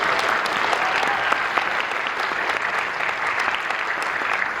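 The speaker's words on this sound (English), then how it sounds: "Can we get some applause for Mr. Dean, please?" Sustained, dense applause from an audience at a middle school winter orchestra concert in Powhatan County, steady and fairly loud throughout without any voices over it.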